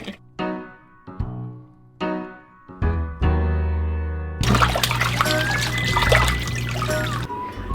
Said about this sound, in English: Just fill the tub with water to max capacity and let it sit there for an hour or two